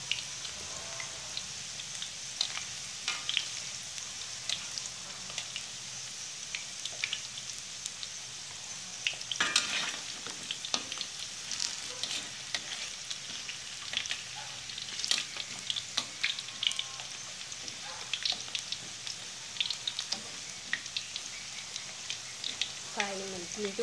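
Potatoes and carrots fry in a pan of hot oil for a chicken ragout, giving a steady, close crackling sizzle with scattered sharper pops throughout and no talking.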